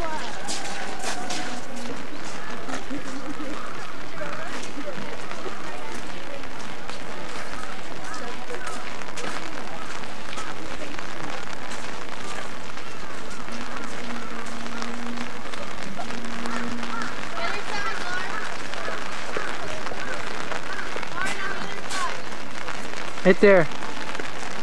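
Steady rain pours down at an outdoor festival, a dense continuous hiss lasting the whole time, while people talk nearby.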